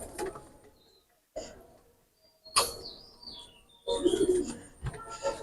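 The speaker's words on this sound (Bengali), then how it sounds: "কবুতর দুইটা ছেড়ে দেখাচ্ছি" Two pigeons let loose give soft coos and chirps in short bursts separated by quiet gaps, with rustling wing flaps close by.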